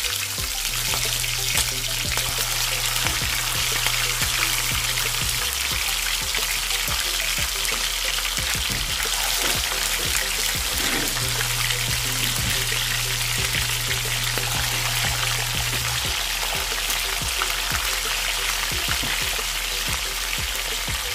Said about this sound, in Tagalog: Guys, mainit na yung ating pan and then mag-start na tayo mag-fry